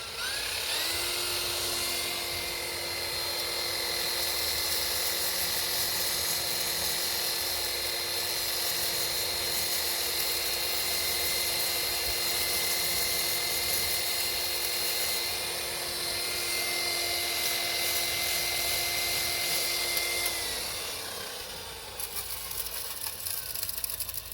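DeWalt DWP849X polisher running on a pad against a boat hull, a continuous high whine held steadily for about twenty seconds before it winds down, close and loud with no talking.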